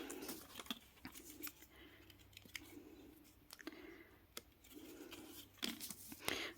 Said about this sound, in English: So I've just decided I'm going to cut that off.